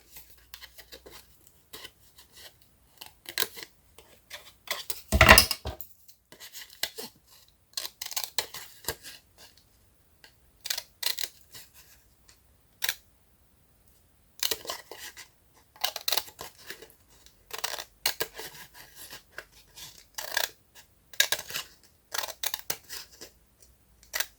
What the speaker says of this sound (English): I'm just quickly going to cut out the frame.